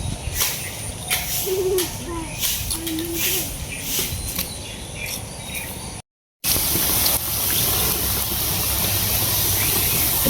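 Nimki snacks fry in hot oil with a dense, steady hiss and crackle, close by, while a faint voice and outdoor chirps sit underneath; a brief silent break interrupts it.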